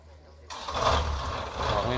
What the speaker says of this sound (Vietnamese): Động cơ 60 nha anh em.